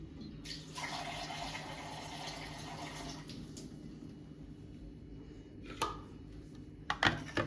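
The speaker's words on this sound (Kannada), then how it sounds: "ಆಮೇಲೆ ಇವಾಗ ಇದಕ್ಕೆ ನೀರು ಹಾಕೋಣ." Water pours steadily into a cooking pot while palak paneer is being made, a fairly loud rushing splash for about three seconds that then fades to quiet room noise, with a few small knocks near the end.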